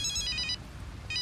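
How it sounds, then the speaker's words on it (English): A mobile phone rings with bright electronic trilling tones in two bursts separated by a short pause, close and clear against quiet background. "that's my phone"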